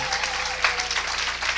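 An audience claps in a continuous, fairly loud patter of many hands, with faint voices beneath the clapping.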